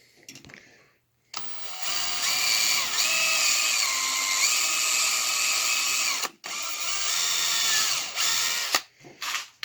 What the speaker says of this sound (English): we're going to drill out that countersink hole a little bit deeper